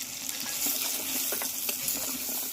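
A spice paste of ground coriander, fennel, cumin, ginger and garlic with tomato, turmeric and chili powder sizzles steadily in a pan, with soft scraping stirs and small crackles over a constant hiss.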